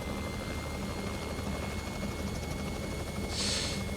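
Robinson R66 helicopter turbine and rotor from the X-Plane 11 flight simulator, a steady, even whine and whir held at a constant level throughout, with no talking over it.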